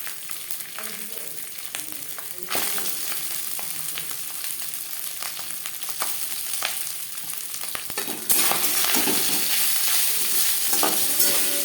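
Rice stir-fried in a pan for fried rice: continuous sizzling with scraping, clattering stirs throughout, the frying growing noticeably louder partway and again near the end, with no voices.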